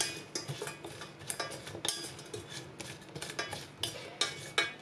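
Mango salad ingredients tossed in a bowl with utensils, giving repeated clinks and scrapes in an uneven rhythm, close and fairly clear, with no talking.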